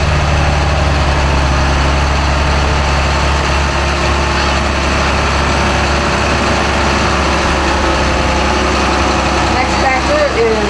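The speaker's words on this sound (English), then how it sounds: "They've entered a 1978 John Deere 2640." A 1978 John Deere 2640 tractor idles during a county fair parade, a steady low diesel rumble close by and continuous throughout, with voices talking over it.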